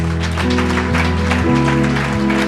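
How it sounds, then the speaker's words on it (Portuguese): A church congregation claps for Jesus at the end of a service, a continuous spattering of hands under loud sustained music, which dominates the sound. "Damos um aplauso para Jesus."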